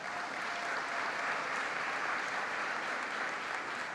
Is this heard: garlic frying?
no